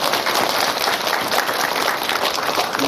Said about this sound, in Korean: 우리 이번 주부터는 박수 치십시다.